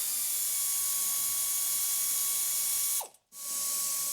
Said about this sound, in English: Remove the fender to body bolts